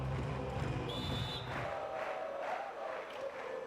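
An Austrian crowd at a beach volleyball Grand Slam semifinal in Klagenfurt cheers and shouts in rolling waves, fairly faint and distant, with a brief whistle-like tone early on.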